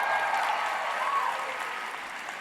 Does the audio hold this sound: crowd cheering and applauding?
yes